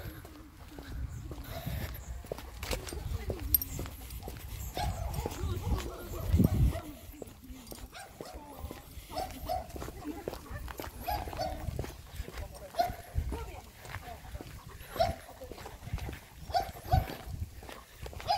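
A dog barks now and then on an outdoor walk after a big storm, with footsteps and someone talking over much of it, the barks fairly close but not loud.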